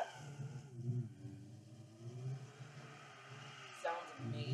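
A car in a driving video game does a burnout, engine rumbling and revving in rising and falling waves with a tire screech near the end, while a person talks over it.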